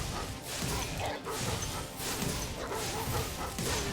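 Dogs barking in the Spyro Reignited Trilogy video game, with repeated barks mixed into a dense, busy game soundscape with thumps and whooshes throughout.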